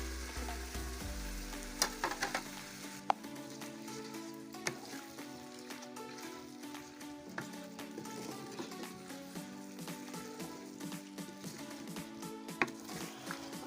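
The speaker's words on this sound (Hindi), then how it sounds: "अब हम इसको 10 से 15 मिनट तक अच्छी तरह भूनेंगे ताकि हमारा चिकन अच्छी तरह गल जाए" Chicken pieces frying in karahi masala with fresh coriander, a steady close sizzle with occasional stirring clicks of a utensil against the pan, no talking.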